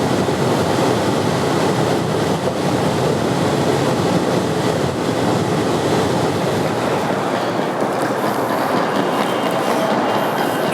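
Passenger train travelling through Canada at night, a steady, loud, unbroken rumble of wheels and carriage with faint clacking, heard from inside and without voices.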